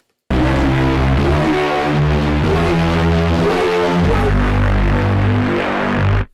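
A UVI Mosaiq instrument playing with all its sample stacks layered by default, giving a thick, gritty sustained harmonic texture that shifts chord-like every second or so, loud and continuous with no voices.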